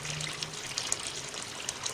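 Steady running water pours in a continuous hissing stream, fairly close, with no voices over it.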